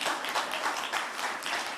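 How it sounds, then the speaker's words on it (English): Audience applause fills the room in a steady, dense wash of clapping, heard at a mayor's public speech about the Port Covington development deal. "We can clap for that."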